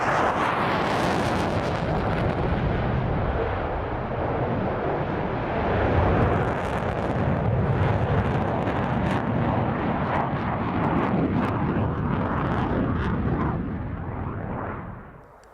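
A Royal Air Force Eurofighter Typhoon FGR-4 jet performs a flying display at the 2015 air show at Fairford, its loud, continuous engine roar filling the sky and swelling and surging throughout before fading at the end.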